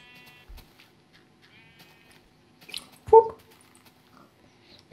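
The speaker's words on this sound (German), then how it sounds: "Coole Schafe, Mann." Sheep bleating in Minecraft, a short near bleat standing out midway over quiet game background, with faint tonal chimes and small clicks around it.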